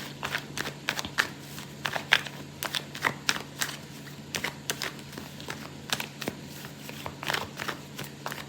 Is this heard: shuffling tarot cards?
yes